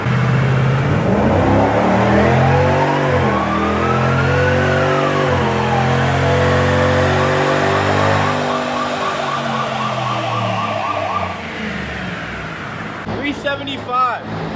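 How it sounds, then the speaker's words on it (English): Supercharged undercover police SUV engine revving up through the gears, a loud rising and falling whine and roar sweeping across several shifts, close by, then settling before a short clatter at the end; someone talks over parts of it. "I was going to downshift because we can't control the transmission, so we're going to have to actually run it through the gears."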